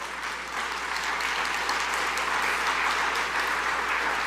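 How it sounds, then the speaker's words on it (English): Audience at a talk on a priest's religious conversion applauding steadily, a dense, even wash of clapping that holds at full strength throughout, with no voices over it. "I'm glad you're clapping"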